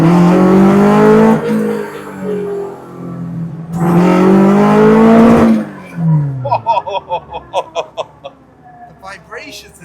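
Toyota AE86 Corolla engine revving and accelerating in rising, surging pulls, heard loud and close from inside the car while someone talks over it.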